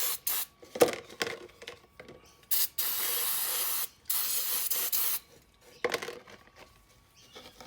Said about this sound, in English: I'm just going to give them a quick clean with some brake cleaner